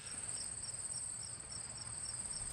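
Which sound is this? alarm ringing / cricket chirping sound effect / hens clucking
cricket chirping sound effect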